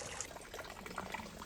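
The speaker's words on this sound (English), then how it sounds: "All the dripping of water in each patio kind of makes me want to go to the washroom" Water trickles and drips continuously in a courtyard patio of a Palacio de Viana garden in Cordoba, Spain, as a soft, even splashing that fills the whole stretch without any voices.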